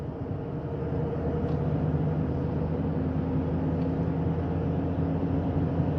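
A 2002 Toyota RAV4 with a U140F automatic transmission on a freshly changed fluid drives steadily, its engine and road rumble holding an even, continuous drone as it shifts smoothly from fourth to fifth gear, with no abrupt break.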